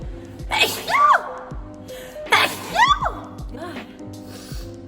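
Two sharp sneezes about a second apart, with a fainter third sneeze or snort following, all close to the microphone over low background hum.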